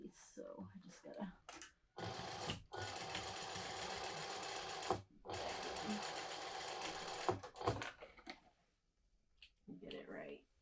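A sewing machine stitches a modified Trailblazer bag in two long, steady runs of close, loud whirring, with a voice talking before, between and after them.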